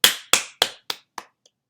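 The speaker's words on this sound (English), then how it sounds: "So let's say that first clap was the only one that was actually recorded." Hand claps: one sharp clap followed by four quickly repeating echoes of it, each fainter than the last and evenly spaced, like a delay effect trailing off to near silence.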